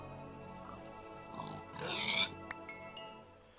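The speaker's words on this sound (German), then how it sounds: "Ich muss schon wieder Schweine umbringen" Pigs oinking and squealing while being killed in the video game Minecraft, a few short grunts building to a louder burst of squeals midway, heard over a steady game soundtrack.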